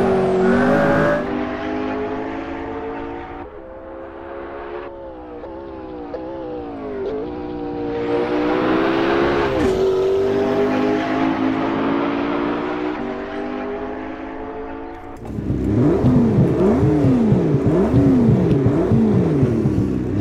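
McLaren P1 engine in the Project Cars 2 racing game, loud and close, revving up and down through repeated gear shifts with sharp rising pitch sweeps, ending in a rapid wavering roar.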